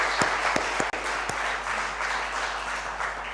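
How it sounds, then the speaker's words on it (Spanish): Sustained applause from a church congregation at a Spanish-language service, dense steady clapping with a few sharper individual claps standing out near the start. "Dale otro paso y otro aplauso"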